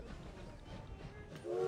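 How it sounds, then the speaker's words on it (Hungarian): A steady rumbling train in the strategy game Victoria 3, rolling at moderate level with a rising whistle-like tone near the end, no voices. "Itt a vonat."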